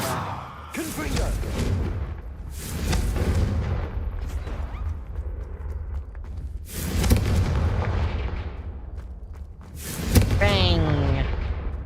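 Confringo fire-spell blasts in the Hogwarts Legacy video game, a series of loud booming explosions bursting at irregular intervals over steady game background sound.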